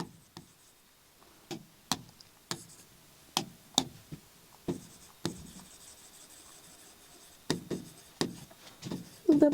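Quick scratchy strokes of a pen or chalk writing out notes, coming in short irregular bursts with brief pauses and a close, dry texture.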